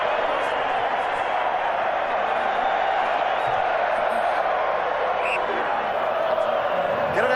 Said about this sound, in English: there's a big round of applause for Troy Coker as he comes off.